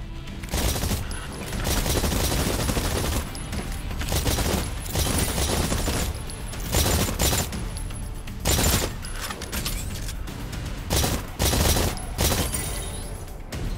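Sustained bursts of gunfire from the video game Exoprimal fill a tutorial shooting stage, with dense rapid fire and brief pauses over a constant game backdrop.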